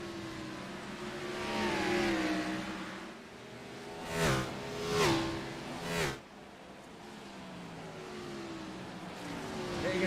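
Stock cars racing on the Bristol dirt track in an NSRL Cup Series sim race, engines whining and shifting pitch as a pack of cars sweeps past in three quick loud passes, then fades back to a steady distant drone.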